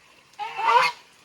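Lion-head geese quarrel across a fence, letting out one loud, close, harsh honking burst lasting about half a second that rises and falls, with no talk.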